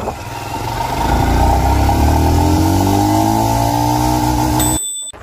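A Royal Enfield Himalayan motorcycle accelerates hard in first gear, its engine note climbing steadily in pitch to a loud sustained high rev before cutting off abruptly near the end.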